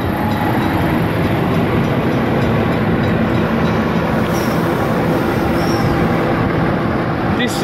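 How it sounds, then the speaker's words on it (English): A Sydney N12 train departs a station, with a dense, loud, steady rumble of wheels and carriages filling the whole stretch and faint high squeals now and then. "This is N12, the train I got off. 12, now departing."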